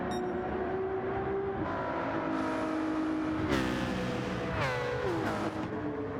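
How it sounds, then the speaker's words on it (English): Citroën race car engine in the Gran Turismo 7 video game during an endurance race, a steady buzzing engine note with rising revs and quick gear-shift sweeps, a second car whining close by. "Then we just hear the burly engine of the Citroën behind Senna."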